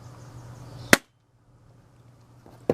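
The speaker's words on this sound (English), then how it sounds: "Shooting test number 4." A homemade gun fires during a shooting test, making one sharp, close crack over a low background hum, then near silence and a second sharp sound at the very end.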